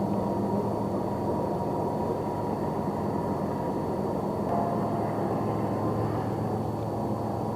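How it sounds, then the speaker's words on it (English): A freight train with engines at the back moves along the Tehachapi Loop in California, a steady, distant rumbling drone with a faint tonal hum that holds evenly throughout, with no voices. "See that train and the engines in the back moving along."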